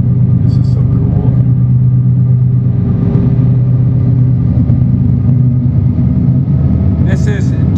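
A freight train engine rumbles through a train tunnel at Odell Lake, Oregon, giving a loud, steady, low droning roar that fills the space, with a few brief higher squeals near the start and end.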